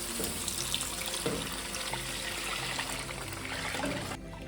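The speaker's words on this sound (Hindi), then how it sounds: "अब मुझे इसके अंदर आहिस्ता आहिस्ता वो पेस्ट डालना है जो मैंने कड़ी का बना के रख लिया था।" Gram flour kadhi paste for boondi kadhi being poured slowly into cooked masala in a pot, giving a steady, continuous liquid pouring and splashing sound that stops abruptly near the end.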